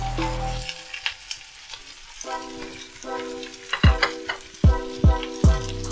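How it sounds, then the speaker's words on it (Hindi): Three chopped onions frying in a pan for egg masala, with a steady sizzle broken by repeated stirring and scraping knocks, while a tonal background hum and melody play along. "अभी मैं इसमें 3 ऑनियन कट करके रखा हुआ है, ये फ्राई करती हूँ।"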